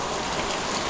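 Steady rain falls on a work site where flooring repairs are underway, a dense, even hiss of drops that fills the whole second without a break, fairly close and with no voices.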